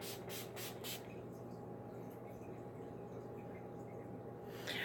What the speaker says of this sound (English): this is the only setting spray I really like so far to set my face